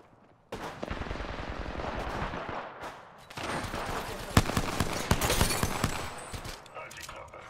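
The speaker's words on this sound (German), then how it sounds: "ich höre hier überall Schüsse" Bursts of gunfire ring out across a battle in Apex Legends, with rapid automatic volleys and single loud shots both near and far while a player talks over much of the action.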